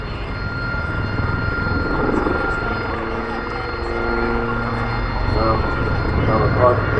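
An Army Air Corps Lynx Mark 7 helicopter flies a display at the Farnborough Airshow, its loud continuous rotor and engine drone with a steady whine running throughout under a commentator's voice.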